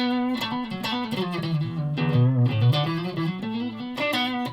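An electric Telecaster-style guitar played through a Joyo British Sound distortion pedal on the neck single-coil pickup, a short sustained riff with gritty overdriven notes and bends, near and alone.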